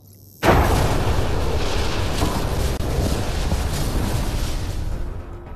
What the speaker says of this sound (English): The ship explosion would be silent.